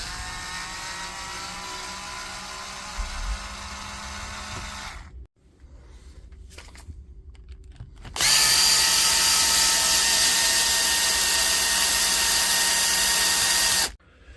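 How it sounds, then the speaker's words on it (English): A cordless power driver backing screws out of the housing of a Metabo SSW18LTX1450BL, a whirring motor run, a pause with brief small clicks, then a second louder and higher whirr held steadily before stopping, close up with no talking. "the first thing we got to do is get all the screws out of the side and the screws out of the front here"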